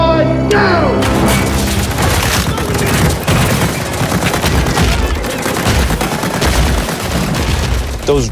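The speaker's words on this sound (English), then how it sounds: "We have about 660 bullet hits that we're syncing up with the camera for this shot." Hundreds of rigged bullet hits bursting in trees on a movie set, a dense, loud, continuous crackle of pops and booms running for the whole span after a brief opening tone.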